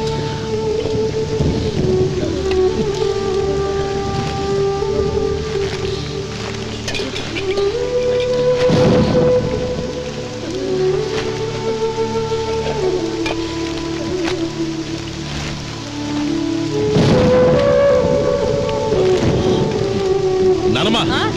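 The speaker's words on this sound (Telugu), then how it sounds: "ఇప్పుడు అర్ధంతరగా ఈ వర్షం పట్టుకుంది" Heavy rain pours during a thunderstorm in a film scene. The downpour is steady, two loud thunder bursts roll through it, and a sustained tonal music score plays underneath.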